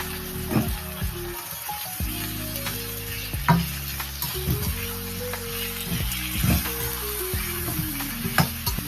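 Vegetables including plantain and kohlrabi sizzle and fry in a pan, a steady crackling hiss with occasional clinks and scrapes of stirring, close and moderately loud.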